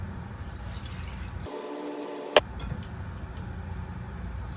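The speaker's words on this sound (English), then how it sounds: "we're just going to cover it with water." Water pours into a pot over pork stew meat, a steady close rushing splash that briefly cuts out and resumes after a sharp knock.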